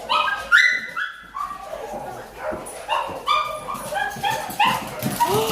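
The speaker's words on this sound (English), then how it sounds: "I'm gonna get the dogs" Dogs whimper and yip in a run of high, thin, pitched cries and short yelps that come in repeated bursts close by, with a person's voice talking over some of them.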